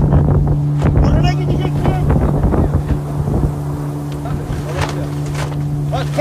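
A Tırhandil racing boat moves across the water during a race, with a steady low engine hum, wind buffeting the microphone, and water rushing past, loud and constant while people talk.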